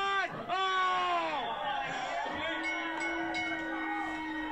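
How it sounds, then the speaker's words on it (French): Crowd at a wrestling match roaring and whooping after a Boston Crab finish, loud and sustained, with strong vocal tones rising and falling in the mix. "Écoutez la foule."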